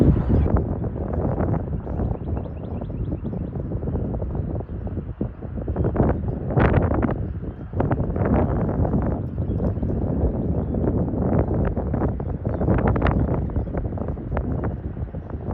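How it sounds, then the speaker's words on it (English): Strong wind blowing outdoors buffets the microphone in loud, uneven rumbling gusts that rise and fall continuously, with no one talking. "the wind won't stop."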